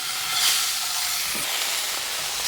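Fish sizzles in a hot pan as it is flipped during Thai cooking: a steady, bright, frying hiss that swells briefly, then holds at an even, fairly loud level.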